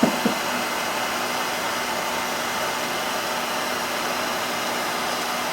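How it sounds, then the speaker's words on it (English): A heat gun blows steadily on a label stuck to a carton, a loud continuous airy roar with a constant hum that holds unchanged from start to finish, with no voices. "As for the label on the carton, you can always use a heat gun,"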